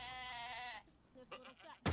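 A goat at a goat yoga class on a farm in Gilbert, Arizona, gives a long, wavering bleat, followed by a few shorter, fainter calls and a sudden loud burst at the end.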